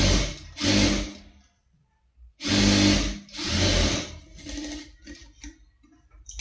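Sewing machine stitching a straight seam on a garment in a tailoring class, running in short bursts with pauses between them, fairly quiet and with no talk.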